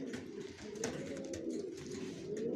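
Racing pigeons, a male and female pair kept in a loft, coo in a low continuous murmur with occasional rustling, close and steady without speech.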